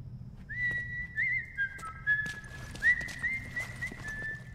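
A character whistles in The Last of Us Remastered: Left Behind, a clear sustained tonal whistle sliding between a few pitches over several seconds, with soft footsteps and low game ambience beneath.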